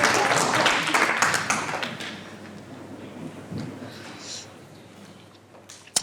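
Applause from a conference audience, a dense burst of clapping that is loud at first and then fades out over several seconds, with scattered claps and a soft murmur trailing at the end.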